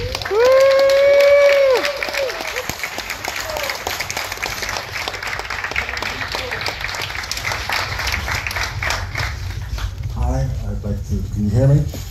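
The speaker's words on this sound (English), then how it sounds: "Big round of applause for Nick Sand," An audience applauds and cheers for Nick Sand as he is introduced at a gathering, clapping and crowd noise running throughout under a loud whistle-like tone at the start and voices near the end.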